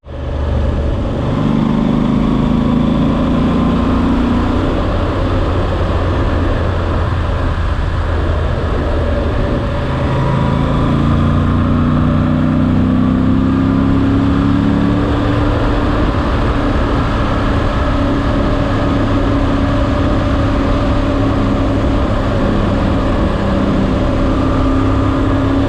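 A 2024 Moto Guzzi V85 TT motorcycle engine revs up and shifts through several gears, its pitch climbing and dropping again, loud and steady throughout with wind noise.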